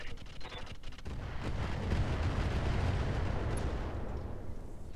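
Incendiary weapon fire in the mech game Roguetech: a dense, roaring barrage of rapid booming blasts that swells after the first second and holds as a sustained, rumbling wall of fire.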